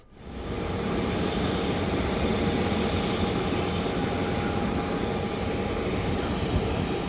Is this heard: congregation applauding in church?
no